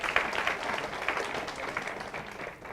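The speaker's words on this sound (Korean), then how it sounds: "답 맞춘 우리 친구들에게 박수 한번 쳐주십시오" Church congregation clapping during a Sunday worship service, a moderate, fairly quiet patter of applause from a smallish group that fades slightly toward the end.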